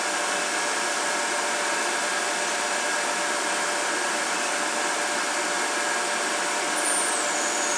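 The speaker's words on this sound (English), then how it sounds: "I need 14 turns of the hand wheel on the tailstock to drill to the required depth." A Denford Orac CNC lathe drills a brass bush with a tailstock drill, giving a steady, unbroken machine whir and hiss at moderate loudness with no voices.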